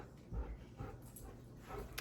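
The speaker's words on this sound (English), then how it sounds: "This is my other dog, Jack." A dog gives soft whimpers and small whines with bits of panting, faint and close, in short bursts over a quiet room with no speech.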